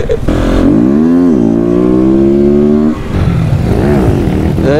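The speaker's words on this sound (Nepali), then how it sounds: "अब यो 300 सिसीको बाइकमा चलाउनु पनि बानी परेको छ" A 300cc motorcycle engine revs hard on an off-road jungle track, rising then holding a loud, steady high whine before dropping and revving again, close and dominant throughout.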